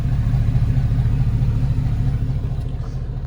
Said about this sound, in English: I'll go back here so you can hear the exhaust.